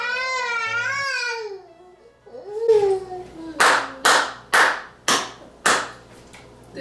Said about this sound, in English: I give that a hand clap.